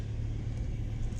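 Nissan 350Z on a test drive, heard as a steady low engine and road rumble from inside the car, continuous and fairly loud with no talking.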